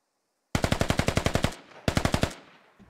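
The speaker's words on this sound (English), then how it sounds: "Oh, they definitely have shots on them." Automatic rifle fire in the military shooter game Squad: two loud, close bursts of rapid evenly spaced shots, the second shorter, separated by a brief pause and ending in a fading echo.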